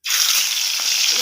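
Fish frying in hot oil, a bright, dense sizzle that erupts suddenly and holds steady, loud and close.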